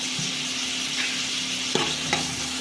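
Sliced onions and okra with a pinch of turmeric fry over medium flame in a pan, giving a steady close sizzle with two or three quick spatula scrapes, no talk.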